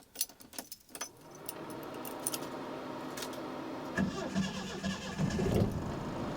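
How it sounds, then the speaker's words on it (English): A 1975 Toyota Corolla KE35 fitted with carburetors is started after sitting for a week: a few jangling key sounds and clicks come first, then the engine cranks and catches into a steady, close idle that grows slightly louder. "I haven't started this in over a week now, so let's see if this is going to start."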